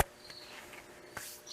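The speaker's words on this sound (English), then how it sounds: "I got crickets! Full of crickets!" Crickets chirp faintly from inside old wooden boards being cleaned for a coffee table build, a thin, sparse insect trill with a few soft knocks of handling, no voices.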